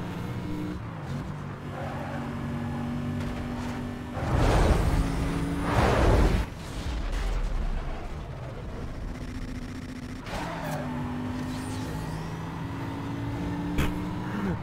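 McLaren sports car in the racing game Need for Speed Most Wanted (2005), a steady engine drone with rising and falling pitch and gear changes, loud and close, with brief surges of road noise.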